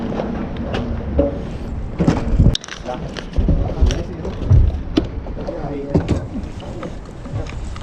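A small boat heading offshore for fishing off Qatar, moving on the water with wind rushing past, water sloshing and knocks against the hull, while people talk over it.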